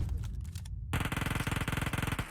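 Gunfire in the PUBG video game on the Vikendi map: a few scattered shots, a brief pause, then a fast rhythmic burst of automatic fire, loud and close.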